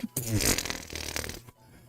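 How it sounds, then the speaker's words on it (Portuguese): A fart sound effect, one long, low, buzzy, sputtering blast lasting about a second and a half, close and moderately loud, ending abruptly. "Eu tinha até colocado um barulho de peido aqui pra gente fazer barulho de peido"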